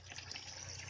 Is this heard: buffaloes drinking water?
yes